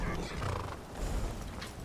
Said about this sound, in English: horse! You're such a good horse.